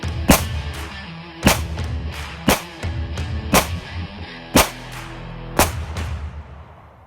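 Six handgun shots fired at a BulletSafe soft body armor vest, loud sharp cracks spaced about a second apart, each with a short ringing decay and no voices between them.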